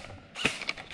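Reloading an airsoft gun magazine: a brief close mechanical click and rattle, a couple of quick snaps in under a second, with no talk.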